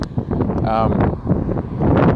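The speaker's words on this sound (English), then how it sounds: "it's a bit windy. I'm outside right now." Gusty wind buffets the microphone with a low rumbling roar beneath a person talking outdoors.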